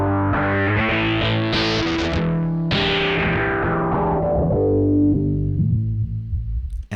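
A distorted synth tone runs through a filter whose cutoff is automated in Pro Tools, sweeping down, jumping back bright, then gliding steadily darker before the sustained sound fades out at the end.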